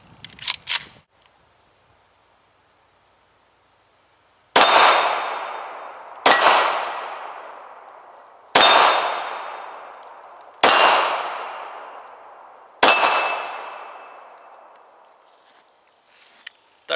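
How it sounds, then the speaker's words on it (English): Five sharp, loud shots ring out from an S&W .40VE pistol, spaced about two seconds apart, each with a short decaying echo, after a brief clatter at the start. "So I'll load up and we'll shoot a few more times."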